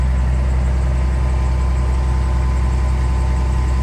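A 2008 Ford F-750 service truck with a Cummins diesel engine idles at raised revs, a steady, loud, low rumbling drone with an even throb and no other sounds.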